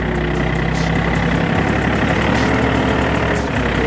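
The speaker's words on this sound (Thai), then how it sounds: "เดี๋ยวผมเปิดเครื่องยนต์ให้ดูนะ" A John Deere 3036E compact tractor of about 36 horsepower idles nearby, its engine loud and steady with a constant low throb and faint mechanical chatter.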